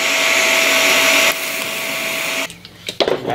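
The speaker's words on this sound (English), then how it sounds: "Just gonna blob it on and grind it off." A grinder grinds a welded blob off a sailboat foresail fitting: a loud, steady whirring hum with a whiny tone for over two seconds, then it spins down and gives way to a few scattered clanks and scrapes.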